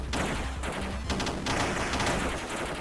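Rapid machine gun fire in the video game Rolling Bird, a loud dense burst of repeated shots with a couple of brief breaks between volleys.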